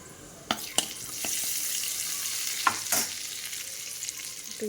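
Chigal greens frying with garlic in a pan, stirred several times: a steady broadband sizzle broken by sharp scraping clicks of the spoon, close and alone with no talk.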